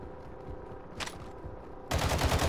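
Gunfire in Call of Duty DMZ: a low rumbling game backdrop with a brief crack, then a sudden loud, dense burst of automatic fire at the end.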